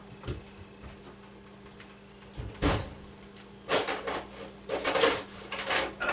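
In a kitchen, someone digs through a drawer for a knife, setting off scattered clinks and rattles of cutlery and utensils, with sharper bursts of clattering toward the end.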